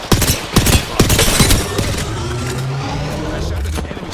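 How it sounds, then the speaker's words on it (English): Rapid gunfire in the Apex Legends battle royale, with a few sharp shots up front and then a steadier rattle of fire and vehicle-like rumble, loud and close, mixed with game sounds. "I shot at an enemy."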